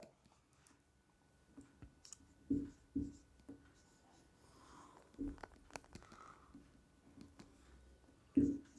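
Marker or chalk writing on a board during a physics lecture, with intermittent taps and short scratchy strokes against a quiet room and faint low murmur.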